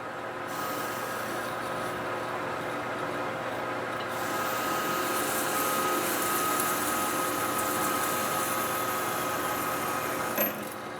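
Metal lathe parting off a distributor part for a 1930 Pierce Arrow, a steady close machine hum and cutting whine lasting throughout, finishing with a small click.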